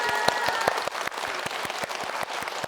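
Applause in a broadcast setting, a steady crackle of many hands with a few sharper, evenly spaced claps standing out near the front.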